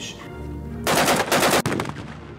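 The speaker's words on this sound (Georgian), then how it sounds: "გორის რაიონში სროლის ხმა კიდევ ერთხელ შინდისის გადაღებების დროსაც გაისმა." Gunfire on the set of the war film Shindisi, set in a Gori district village: a loud, close burst of rapid automatic shots after a calmer lead-in, then a sharp final crack.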